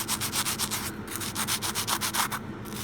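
A fossil rock is sanded and polished with grit, giving a loud, steady back-and-forth rasping that rises and falls in rapid regular strokes, close up, with a couple of brief pauses.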